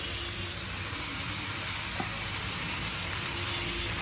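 Chicken chowmein frying in a pan gives a steady, close sizzle that stays even throughout, with a faint clink near the middle.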